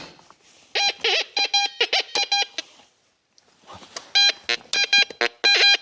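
Metal detector pinpointer inside a cave letting out rapid, loud bursts of electronic beeping in quick groups, with a short pause midway before the beeping resumes even more intensely.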